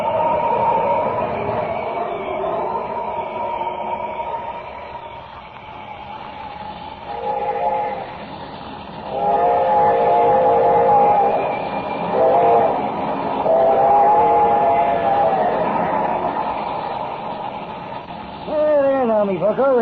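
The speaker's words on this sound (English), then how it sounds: "Can I reach that bridge before the train does?" Radio-drama effect of a steam train approaching a bridge, with a sustained chuffing rumble and a rising, wavering whistle that swells loudly near the end.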